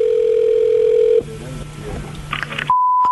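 Telephone call tones on a prank call: a long steady dial tone, then a stretch of line noise with quick dialing beeps, and finally a clear ringback tone.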